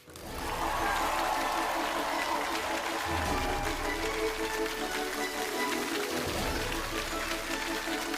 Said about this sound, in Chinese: 让我们掌声有请本期开讲嘉宾，敦煌研究院名誉院长樊锦诗，有请。